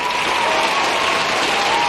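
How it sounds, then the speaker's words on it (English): Dense applause and cheering from a large crowd, loud and steady throughout with no gaps. "Editor, put in some clapping and cheering."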